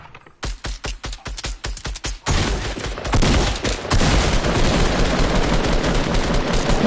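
Video game gunfire starts as a series of sharp, evenly spaced shots, then swells into a dense, continuous barrage of loud rapid fire that runs to the end.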